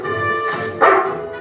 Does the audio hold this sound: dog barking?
yes